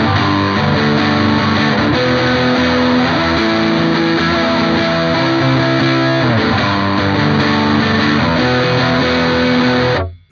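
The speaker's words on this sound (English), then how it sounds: "you turn off the PH2 superphaser and the delay, you keep your distortion on," Electric guitar played through a distortion pedal, loud sustained distorted chords ringing steadily for about ten seconds before cutting off abruptly.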